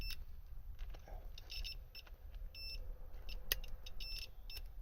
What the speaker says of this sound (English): you can probably hear on the meter it'll beep